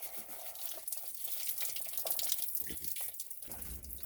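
Running water from a tap pours steadily for a rinse, a close, continuous hiss and splash that shifts slightly in texture, ending with a brief low thud.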